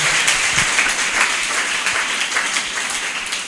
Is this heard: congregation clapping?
yes